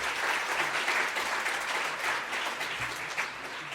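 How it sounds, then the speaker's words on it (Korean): Church congregation applauding to welcome a member during a Sunday worship service, steady dense clapping from a full room that keeps an even level throughout, with no voices over it. "다시 한번 박수로 환영하겠습니다."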